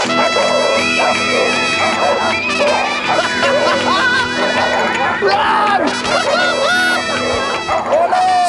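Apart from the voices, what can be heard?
pit bulls barking and running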